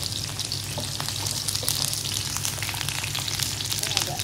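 Shallots fry in oil in a pan, cooked only until wilted for Sundanese nasi tutug oncom. A dense, steady sizzle runs loud and close throughout with fine crackling.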